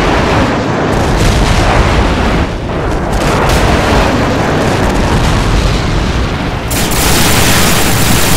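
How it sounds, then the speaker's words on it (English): Airstrike explosions from Call of Duty 4: Modern Warfare multiplayer on PS3, a dense, continuous roar of loud booming blasts rumbling through the whole stretch with barely a break. "Airstrike on the way."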